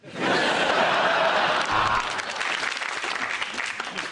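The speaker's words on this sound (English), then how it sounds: "Smile, pause, applause." Studio audience applause on a comedy panel show, a loud dense wash of clapping that swells fast, holds steady, then eases slightly and continues to the end, with a few faint laughs mixed in.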